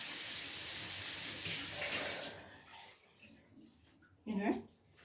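A tap runs steadily over an onion being washed under it, a broad rushing hiss that cuts off partway, followed by quiet room sound and a brief voice.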